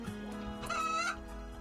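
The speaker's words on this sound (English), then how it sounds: "And we have a manhunter pack of chickens." Chickens in the colony game Rimworld, a manhunter pack, give a short, close burst of clucking and gobbling fowl calls over a steady low hum, with one brief rising squawk in the middle.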